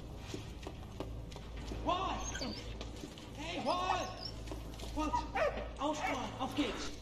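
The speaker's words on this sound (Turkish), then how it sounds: "Köpek." A dog in the World War I video game Valiant Hearts: The Great War barks, yips and whimpers in several bursts, fairly close, while a person talks over the sounds.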